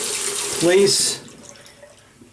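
Warm tap water runs briefly while a shaving brush is wetted for a cool cologne lather shave cream, a short close splash that fades quickly, with someone speaking over it.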